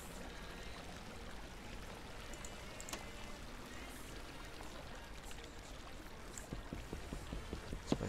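Water flowing in the Minecraft video game, a faint, steady rushing stream with soft splashes and a few clicks near the end.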